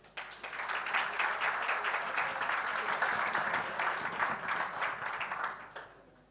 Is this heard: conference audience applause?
yes